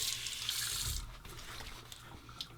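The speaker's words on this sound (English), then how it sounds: "a final rinse with cold water" Cold water runs from a tap into a sink for a final rinse after wet shaving, a steady close hiss that is strongest at first and then continues more softly.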